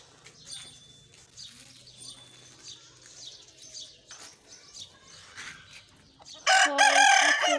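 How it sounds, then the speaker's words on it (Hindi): A flock of chickens clucking and chattering continuously while being fed on a rooftop, ending in a loud, close squawking burst; faint voices underneath. "अभी मैं मुर्गियों को खाना डालने लगी हूँ।"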